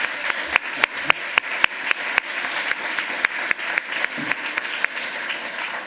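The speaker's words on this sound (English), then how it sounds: "Give him a huge round of applause" Applause from a hacker conference audience after a Pecha Kucha lightning talk, a sparse ripple of individual claps with sharper single hands popping out, steady throughout and fairly close.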